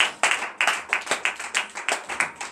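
A church congregation at morning prayer claps in rhythmic acclamation, sharp repeated hand claps in a steady beat of roughly four per second, close and loud with no talk.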